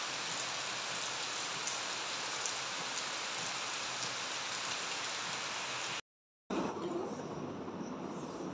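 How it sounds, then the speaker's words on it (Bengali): Heavy rain falls in a dense, steady roar on surfaces. The sound cuts out to silence for a moment near the end, then comes back at the same strength. "বৃষ্টি আরো জোরে চলে এসছে।"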